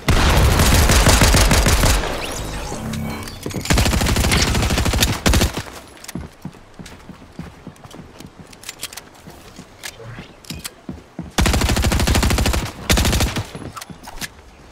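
Bursts of automatic gunfire in Fortnite, loud rapid volleys at the start, middle and near the end, with quieter scattered shots and game sounds in between.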